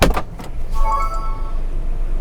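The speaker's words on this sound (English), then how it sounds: "if you only open the door." Dacia Bigster car door opening: a couple of quick mechanical clicks of the latch, then a short electric whir and faint chime tones, close and clear, with no speech.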